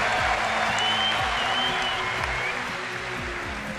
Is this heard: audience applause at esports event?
yes